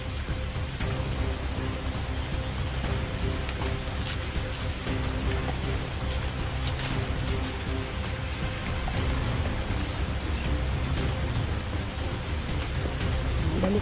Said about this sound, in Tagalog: Parang umuulan na talaga mga idol.